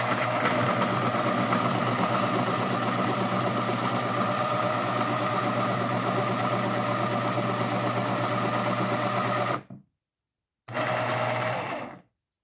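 A Staples medium-duty electric pencil sharpener grinds a pencil with a steady, loud motor whir for about nine seconds, stops briefly, then runs again for a short burst.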